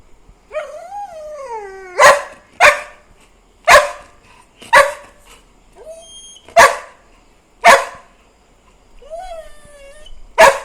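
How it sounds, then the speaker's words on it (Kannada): A house dog barks about seven times in loud, sharp bursts close by, with a rising whine-like call before the first bark and another between barks. "ಅದು ಬೋ ಬೋ ಅಂತ ಬೊಗಳ್ತಾ ಇರೋದಕ್ಕೆ"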